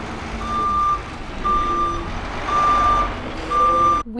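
Reversing beeps from a bus maneuvering in a tight space, four long, evenly spaced tones sounding loud and close over engine rumble, ending with a brief clunk.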